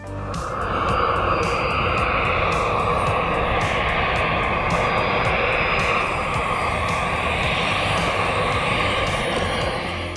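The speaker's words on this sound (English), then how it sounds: "a turbojet engine producing 80-kilogram force of thrust" The turbojet engine of a mini hang-glider-style aircraft, rated at 80 kilograms of thrust, roars as a loud, steady, continuous whoosh throughout.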